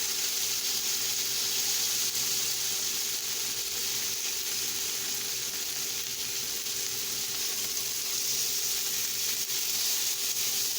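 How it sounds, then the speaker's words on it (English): Bacon frying in a pan on a stovetop, a steady close sizzle and crackle of fat that holds evenly throughout with no voices. "I'm just going to turn this bacon one time. And we want to get this bacon crispy."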